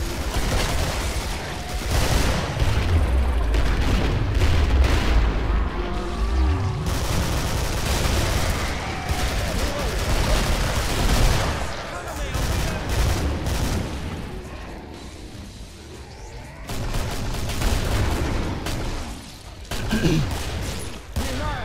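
Rapid gunfire fills the Killing Floor game, dense overlapping bursts of shots and booms that stay loud and continuous, with short lulls between volleys.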